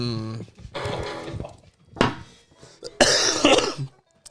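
A man coughs in several harsh bursts close to the mic, with loud hacking fits separated by short pauses on a podcast.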